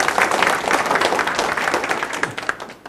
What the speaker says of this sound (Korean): 자, 다시 한번 뜨거운 박수 부탁드립니다.